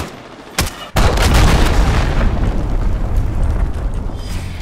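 Cruise missile blast in Call of Duty Modern Warfare, a sharp crack followed by a loud, sustained booming explosion that rumbles and slowly decays.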